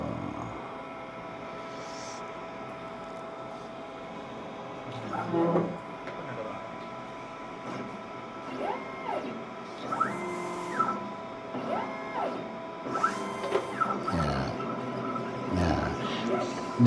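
Cutting plotter printer fitted with a small CCD camera that reads registration marks, tracing along a drawn outline; motors whine in repeated rising and falling sweeps with short clicks over a low steady hum, close and fairly quiet.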